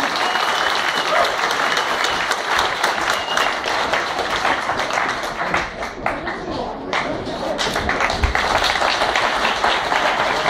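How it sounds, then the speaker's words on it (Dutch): Sustained applause from an audience, dense clapping filling the whole stretch at a steady, fairly loud level with no voices standing out. "Een applaus."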